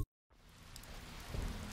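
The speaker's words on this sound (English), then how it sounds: "It is raining out here." Steady rain falling outdoors in the stealth game Dishonored, a dense continuous hiss of drops with low rumbling underneath, fading in after a brief silence and holding even and moderately loud.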